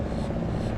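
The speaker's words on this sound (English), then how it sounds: "Sorry about the helicopter." A helicopter flies overhead in Florida, its steady, loud rotor and engine rumble filling a brief stretch with no talk.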